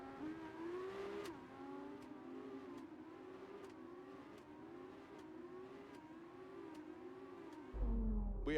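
Formula 2 cars rolling off on the formation lap at the Baku street circuit in an F1 video game, a steady layered engine drone with shifting pitch as several cars move together, loudening at the end.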